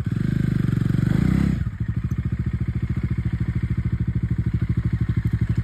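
A Bajaj Dominar 400 motorcycle stuck on a rocky uphill climb revs loudly at first, then drops to a rough, pulsing low chug that runs close and steady.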